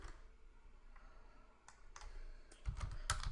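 Computer keyboard typing while entering a spindle speed value in milling programming software: scattered light clicks and keystrokes, growing into a denser, louder flurry of taps near the end, close and alone.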